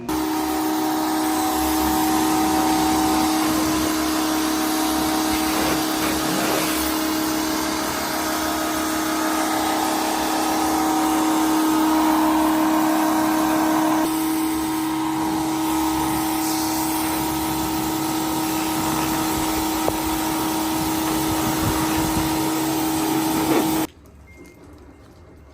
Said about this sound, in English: We're gonna do a quick little pressure washing on this thing and clean it up.